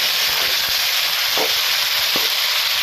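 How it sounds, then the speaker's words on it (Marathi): Okra frying in a pan for stuffed masala bhindi, a loud, dense, steady sizzle close up with a couple of faint soft bumps, no talk. "एकदाच हलवून 2 मिनिटासाठी ती फ्राय व्हायला"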